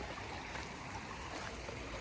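Creek water flows over rocks in a December creek scene, a continuous broad rushing wash at an even level, with no voices present.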